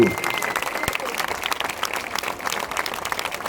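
Steady crowd clapping at a French mountain bike XCE championship in Ploeuc-L'Hermitage, a continuous patter of many hands that holds at an even level from start to finish.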